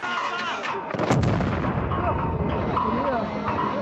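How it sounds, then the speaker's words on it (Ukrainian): Sharp gunshots from less-lethal traumatic weapons and a heavy grenade boom ring out amid crowd noise and shouting voices at a street protest clash, loud and chaotic. "стріляють з травматичної зброї та закидують мітингарів гранатами"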